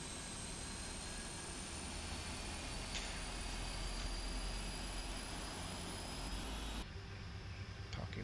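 Boeing 747-400 engines spool up during start in the PMDG flight simulator, a steady, faint jet whine and rumble with thin high tones that shift partway through.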